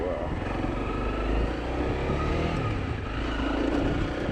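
A dual sport motorcycle engine drones steadily and close, with wind rumble and continuous riding noise throughout, riding on sandy ground on Naxos, Greece.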